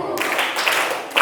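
Schoolchildren in a classroom clap together on their teacher's cue, a short burst of dense group clapping that runs across the moment and ends in a sharper final clap.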